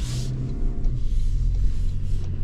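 A 2026 Toyota Land Cruiser Ultimate with strong low-end torque drives and accelerates, its steady low engine rumble and road noise filling the cabin from inside, with no talk.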